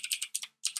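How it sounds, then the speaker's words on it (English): Fingers type on a computer keyboard in quick, close bursts of crisp keystrokes, pausing briefly before clattering on again. "So we're going to type in standard"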